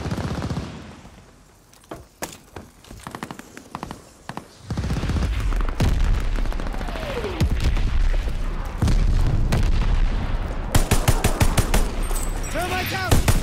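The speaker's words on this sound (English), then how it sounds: "Heads up! Allied mortar fire coming!" Mortar and gunfire in the Call of Duty: Vanguard video game, with a heavy rumbling bombardment, rattling bursts and booms building up over voices and battle noise.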